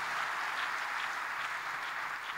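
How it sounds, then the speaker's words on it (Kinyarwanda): A church congregation at Bethesda Holy Church in Rwanda bursts into dense, steady applause, a loud, continuous wash of many hands clapping together with no pauses. "On peut donner une bonne bain d'applaudissements à Jésus."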